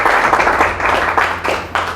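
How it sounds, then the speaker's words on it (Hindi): A seated audience at a motivational speech breaks into sustained, dense applause, a steady wash of many hands clapping close by with small surges and dips and no voices over it. "अपने लिए ज़रा तालियां बजाइएगा"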